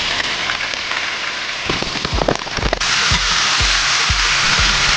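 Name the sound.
chicken meat frying in hot oil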